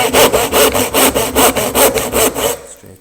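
Handsaw making vertical cuts in a piece of wood held in a vise, about ten steady rasping back-and-forth strokes, close and loud, stopping near the end.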